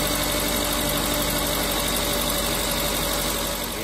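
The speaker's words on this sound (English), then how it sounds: "So let's start the car, see if we have a decent spark" A car engine runs steadily during a spark test for a single-cylinder misfire, with the spark plug grounded against the valve cover; a loud, even, close idle with no voices.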